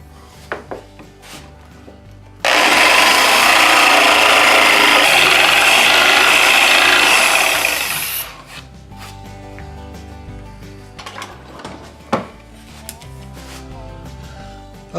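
A router cuts into wood for a utility stool, a loud, dense grinding burst lasting about five seconds. Quieter workshop knocks and clatter come before and after.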